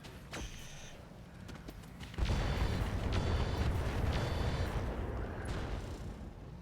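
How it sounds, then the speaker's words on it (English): Rocket hits and explosions in the mech combat video game RogueTech: a rolling series of heavy booms and bursts that swells into a sustained loud rumble, with sharp impacts scattered through it. "And not a bad hit with the rockets either."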